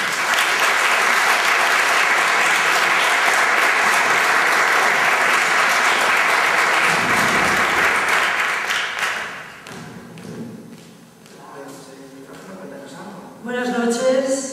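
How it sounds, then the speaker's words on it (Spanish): An audience at an Asturian film festival gala applauds loudly and steadily for about nine seconds, then the clapping fades out and a voice takes over. "Un aplauso."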